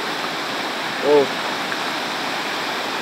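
The rushing current of the Majayjay River in Laguna, a steady, loud broadband roar of flowing water, with a brief voice exclamation partway through.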